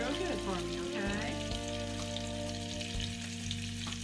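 Food frying and being stirred in a pan on a home stove, steady sizzling throughout with occasional scraping, tonal hum and clatter underneath, close and continuous.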